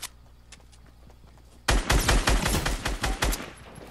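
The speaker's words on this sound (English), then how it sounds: "that was a pretty good shotgun shot" Burst of loud gunfire in Fortnite Battle Royale, a shotgun blast followed by rapid repeated shots and impacts after a quiet lead-in, close and punchy with no talk.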